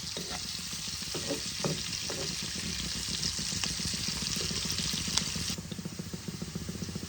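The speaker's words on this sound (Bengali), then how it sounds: "আমি পেঁয়াজগুলোকে লাল লাল করে ভেজে নেব" Onions frying over low to medium heat until reddish, a steady hissing sizzle with a few soft stirring knocks early on, close and continuous, the hiss fading slightly near the end.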